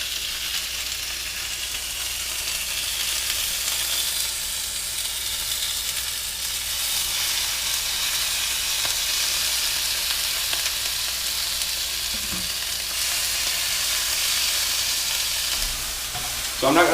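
Thin-sliced meat for ramen fries in a hot pan with a steady, even sizzle that holds for the whole stretch, with faint clatter near the end.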